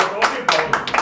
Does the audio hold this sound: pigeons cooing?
no